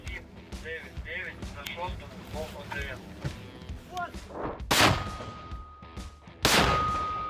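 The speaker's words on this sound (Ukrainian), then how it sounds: "Це гармата, вона стріляє, тим більше 130 калібр" A 130-calibre cannon fires twice on a front-line position, each blast a sharp loud boom with a ringing tail, after a stretch of voices and scattered knocks.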